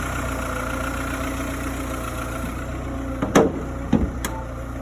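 A 2004 Seat Ibiza 1.4 automatic idles steadily close by with an even low hum, broken near the end by a couple of brief clunks.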